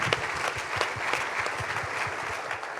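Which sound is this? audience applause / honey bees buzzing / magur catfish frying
audience applause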